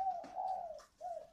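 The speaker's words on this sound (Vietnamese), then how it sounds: "Con này là chim rừng." A wild forest bird, newly tamed and under a year old, gives a low cooing call in two close phrases, fairly near and alone with no talk.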